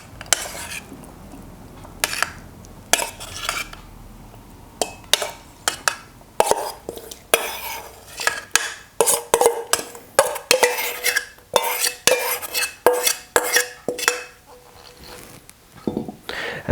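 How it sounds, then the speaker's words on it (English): Spoon scraping and clinking as tuna ceviche with leche de tigre is moved from a plate into a bowl, with repeated short taps and scrapes of cutlery on crockery close by, fairly busy and uneven, with no talking. "Just grab this plate and then you can just spoon him into a bowl."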